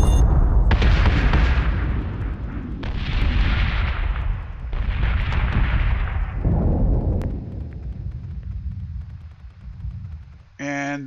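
Ship guns in a video game firing at the Kratos in a series of heavy, booming artillery blasts, each with a long rumbling tail, the bursts spaced a second or two apart, ending with a short electronic tone.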